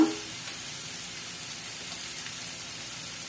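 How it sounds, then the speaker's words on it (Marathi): Tikka gravy masala sautéing in a pan makes a steady, even sizzle and crackle like light rain, close and continuous, with no talk over it. "दोन मिनिट परतून घ्यायचं आहे"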